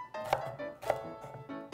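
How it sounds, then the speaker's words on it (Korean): Knife slicing celery diagonally on a cutting board, a few sharp, close chops spaced irregularly, each a crisp tap against the board in a quiet kitchen. "그냥 어슷어슷 썰게요. 같이 놓고 썰어주셔도 상관없어요."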